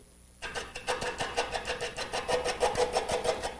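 A wood lathe turning a mesquite Christmas tree starts up and whirs at speed, a steady droning hum with a rapid rhythmic pulsing beat, close and moderately loud.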